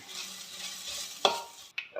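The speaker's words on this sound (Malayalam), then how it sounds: "കടുക് പൊട്ടിയിട്ടുണ്ട്" Close-up hiss of hot oil as mustard seeds splutter, with a couple of sharp pops cracking out over the steady sizzle. Nobody speaks.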